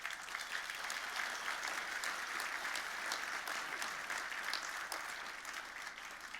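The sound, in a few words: graduation ceremony audience clapping and cheering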